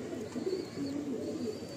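Pigeons in a loft coo steadily in low, rolling phrases that fill the space nearby, a continuous murmur with no talking.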